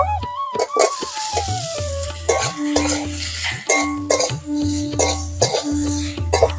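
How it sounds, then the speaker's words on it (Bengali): Boiled potato pieces frying in ghee with black pepper, a sizzle under repeated rhythmic clanks of a spoon stirring against the pan, with a cough near the start. "আলু দিয়ে ভালো করে ভেজে নেব"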